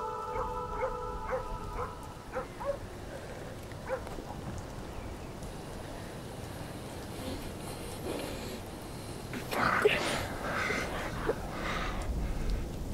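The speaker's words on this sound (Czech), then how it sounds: "Vypuste na něj psi." Several faint dog barks and yelps sound at the start, distant and brief, followed by quieter rustling and a rising noise near the end.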